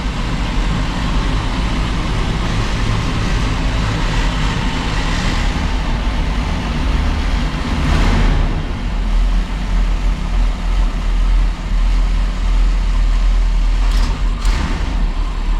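An RV engine idles steadily while warming up, a loud, continuous low rumble holding constant throughout with a slight swell midway and no talking.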